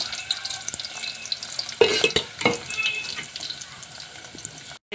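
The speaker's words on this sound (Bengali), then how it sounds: "আমি পেঁয়াজ কুচিগুলো দিয়ে দিচ্ছি।" Chopped onions going into hot oil, giving a burst of sizzle and clatter midway that settles into a softer frying hiss, close by, with a few quiet knocks around it.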